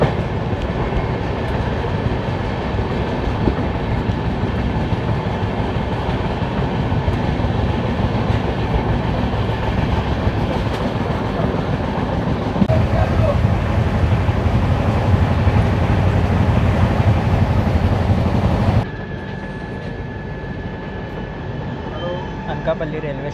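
Coromandel Express train running between Chennai and Visakhapatnam, heard from on board as a loud, steady rumble of wheels on the tracks with a constant broadband roar. It grows heavier midway, then drops to a lighter hum near the end.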